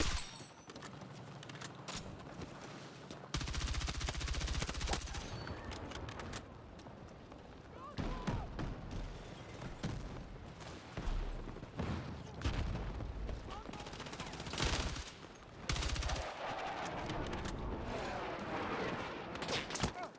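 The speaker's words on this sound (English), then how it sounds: "Hostile machine gun in sight!" Sustained machine gun fire and explosions in Battlefield 6 multiplayer combat, dense bursts and booms running almost continuously, loud and near, with a player's voice heard over the battle noise.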